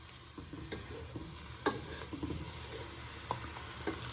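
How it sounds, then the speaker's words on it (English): Spices and chopped tomatoes are stirred in a frying pan, soft sizzling under several distinct scrapes and taps of a utensil against the pan. "And then you want to give that a good stir in."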